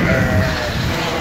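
Sheep bleat in a dense, noisy chorus close by, several animals overlapping in a brief burst.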